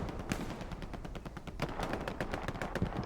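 Machine gun fire in a video game, rapid continuous bursts of gunshots rattling in quick rhythm, loud and fairly close, with overlapping shots layered throughout.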